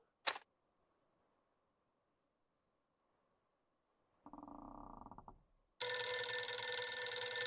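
Telephone rings in the Dracula 3 point-and-click horror game: a sharp click, silence, a brief buzzing tone, then a loud, steady electronic ring that continues to the end, with no talk.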